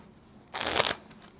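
A quick riffle of playing cards during a false shuffle, a brisk fluttering burst lasting under half a second, close and fairly loud against a quiet room.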